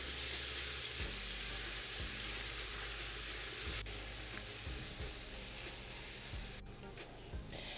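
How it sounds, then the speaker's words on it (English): Onions sizzling in a pan with aromatic spices while a utensil stirs them, giving a steady frying hiss broken by soft periodic scraping taps, close and fairly quiet, with no talk. "Stir it in and continue to cook until these onions become perfectly caramelized."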